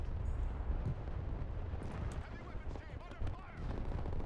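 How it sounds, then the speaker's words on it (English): Artillery fire in the video game Broken Arrow, in a Strykers versus Abrams match: faint, distant thudding impacts and crackling shots scattered through a low, busy rumble of battle noise. "that's a good arty fire there"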